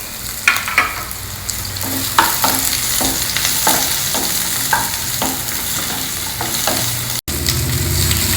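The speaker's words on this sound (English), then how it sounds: "Now stir fry all of them till the onions and tomatoes become soft." Roughly chopped onions, ginger and two tomatoes stir-fried in a pan for a North Indian vegetarian thali, a steady close sizzle with repeated scraping stirs and clacks of the spoon throughout.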